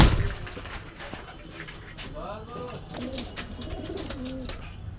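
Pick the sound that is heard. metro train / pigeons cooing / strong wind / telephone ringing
pigeons cooing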